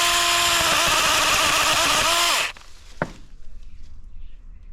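A DEKO DKCHS 20 battery mini chainsaw whines loudly with shifting pitch as it bites into branches, running without chain oil, then cuts off abruptly, followed by a snap and quiet rustling.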